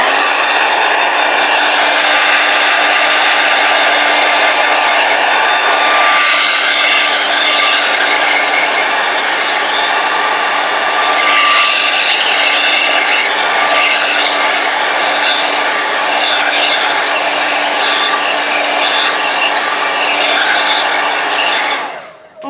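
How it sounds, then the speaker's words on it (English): A hair dryer blows steadily on wet acrylic paint, a loud continuous whoosh holding for about twenty seconds before cutting off at the end. "So I'm gonna go ahead and I'm gonna blow dry this again."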